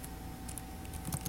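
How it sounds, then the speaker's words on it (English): Someone types on a computer keyboard, a quiet run of soft key clicks that thicken near the end over a low steady hum. "as I'm typing this whole thing out"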